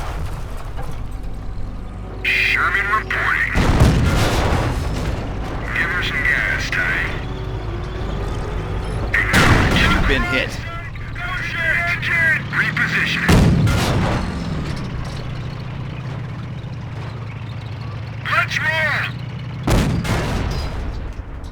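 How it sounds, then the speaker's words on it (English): Panzer tank cannon fire in a Company of Heroes battle: four heavy, loud booms spaced several seconds apart over a constant rumble of engines and battle noise, with voices talking in between. "That shot from the Panzer scored a critical hit and has immobilized your tank"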